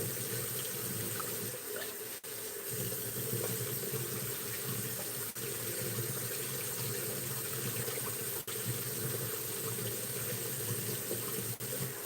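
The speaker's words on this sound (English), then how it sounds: "Sorry for the loud water." Tap water runs steadily into a bathroom sink during a shave with an unusual razor, a loud continuous rushing splash that holds evenly throughout with only tiny interruptions.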